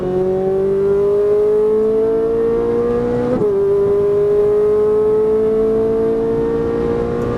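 A Ferrari 458 Italia circles a track, its engine droning loudly and steadily from onboard, the pitch climbing gradually, dipping sharply at a downshift, then rising again.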